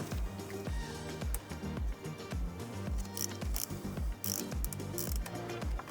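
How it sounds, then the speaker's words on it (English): A hand ratchet clicks rapidly in repeated bursts while loosening a T30 Torx bolt on a charge pipe mount of a 2022 Volkswagen GTI MK8, close and crisp with brief pauses between strokes. "there's another mount with a T30 torque spit again. So we'll take that bolt out"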